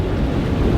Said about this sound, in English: The wind is just picking up a bit.